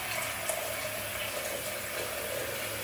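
Tap water runs in a steady, even hiss for a warm water shave, a continuous faint splashing stream with no voices over it.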